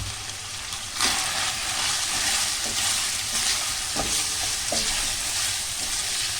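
Meat frying in butter for tantuni, a bright close sizzle that jumps louder about a second in, with occasional stirring scrapes under the steady hiss.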